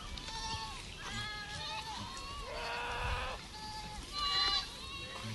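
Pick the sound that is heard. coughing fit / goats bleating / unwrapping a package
goats bleating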